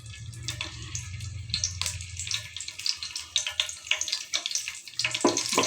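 Bay leaves fry in hot oil in a biryani pot, giving a steady close crackling sizzle with sharper spitting bursts throughout, and no voices.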